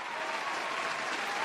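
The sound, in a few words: applause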